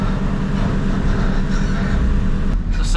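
Loud, dense rumbling and grinding of heavy scrap metal being loaded onto a truck, a continuous mechanical roar with no speech.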